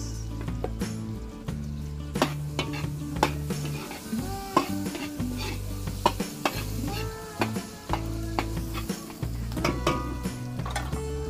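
Garlic and onion sizzle in a pan during fiesta cooking in the rural Philippines, with steady frying hiss broken by repeated stirring and the clink of a utensil against the pan.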